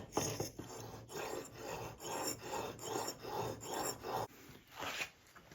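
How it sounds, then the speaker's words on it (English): Rhythmic rasping of a blade being sharpened on stones held in a Mohoo honing guide, about eight quiet back-and-forth strokes in steady succession, close and alone. "And I'll continue this process and be able to sharpen it."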